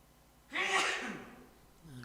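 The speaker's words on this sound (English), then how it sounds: "Quick elbow sneeze." A single sharp sneeze into an elbow bursts out close by in a church, trailing off into a breath.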